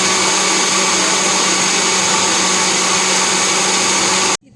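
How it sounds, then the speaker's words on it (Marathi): A kitchen mixer grinder runs with a loud, steady whirring drone while grinding soaked rice and lentils for idli batter, then cuts off abruptly at the end. "मग त्याला मिक्सरमध्ये पिसायसाठी घेतले."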